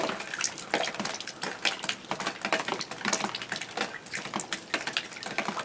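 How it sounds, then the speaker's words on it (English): Rain drips off a roof onto a tarp below, a rapid irregular patter of close taps that continues steadily with no talking. "There's rain dripping off the roof and hitting the tarp down there is that noise."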